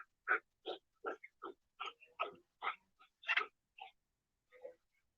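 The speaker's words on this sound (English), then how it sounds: "there's the dog. He plays a toy." A dog playing with a toy, making a quick series of short huffing, snorting and whimpering noises, about a dozen close bursts in an irregular rhythm with silence between.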